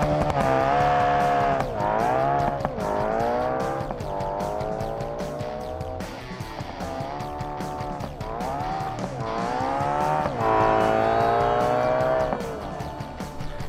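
A drag race car engine in the BeamNG driving game roars continuously at high revs, rising and falling in pitch through gear changes across a pass, loud and close with no talk.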